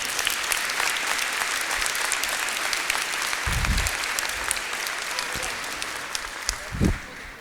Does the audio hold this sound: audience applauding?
yes